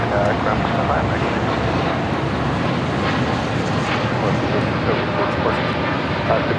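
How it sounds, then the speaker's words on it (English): Two Airbus A380 jets taking off or crossing at LAX, a steady broadband roar of jet engines mixed with wind rumble, continuous and fairly loud throughout. "we see the 2 A380s taking off, or crossing over."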